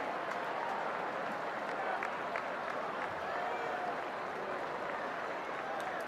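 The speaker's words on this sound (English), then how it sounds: "the crowd gives him a hand there" A baseball crowd at a Mets vs Dodgers game claps and cheers steadily, a broad, moderately distant wash of applause with no clear breaks.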